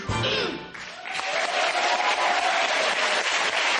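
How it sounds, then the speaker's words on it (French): Audience applause for a children's choir on a French television variety show, starting briefly after a musical ending and swelling into steady, dense clapping that fills the room. "Merci, on applaudit les enfants."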